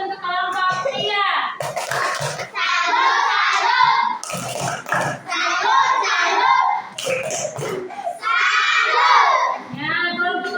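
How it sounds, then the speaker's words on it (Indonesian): Schoolchildren in a classroom perform a rhythmic chanted clapping salute for a student group, with bursts of sharp hand claps alternating with loud sung or shouted children's voices. "tepuk salut untuk kelompok 3."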